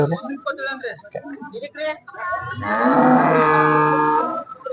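Cattle and buffaloes at the Dharwad cattle market, with people talking nearby before one long, loud, close moo swells and holds through the second half.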